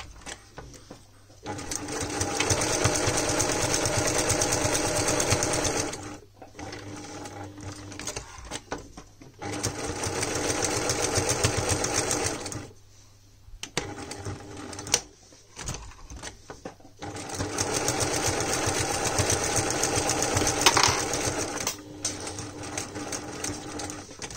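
Sewing machine stitching velvet and coated cotton at about a 0.5 cm seam allowance, running in three long steady bursts with short pauses between, loud and close with no talk.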